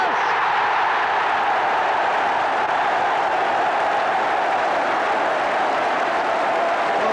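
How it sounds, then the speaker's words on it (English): Football crowd in a stadium applauding a headed goal by Roberts in a Spurs versus Manchester United match, a steady, dense wash of clapping and crowd roar holding at an even level throughout. "Well, the crowd showed their appreciation"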